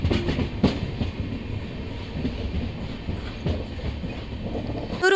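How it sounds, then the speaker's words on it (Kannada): The Jan Shatabdi Express train at Kadur station in the early morning, with rolling wheels, rhythmic clickety-clack over the rail joints and a brief squeal at the end, loud and close. "ನಮ್ಮ ಟ್ರೈನು."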